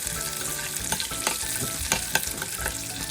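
Dosa batter with cumin being stirred by hand in a bowl, a steady wet stirring and slapping sound with a few sharper knocks, close and alone without talk.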